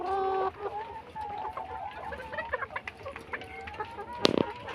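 Hens cluck in a poultry coop near their feed, a scatter of short, soft clucks and murmurs at close range, opening with a brief steady tone and ending with a sharp clatter.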